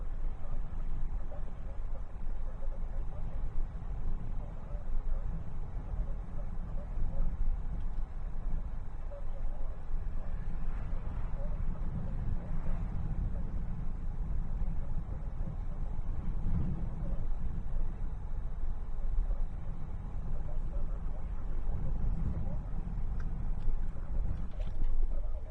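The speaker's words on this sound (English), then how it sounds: "Wind is really picking up." Strong wind roars through a coastal storm at night, a steady, loud broadband rush with low buffeting that continues throughout without letup.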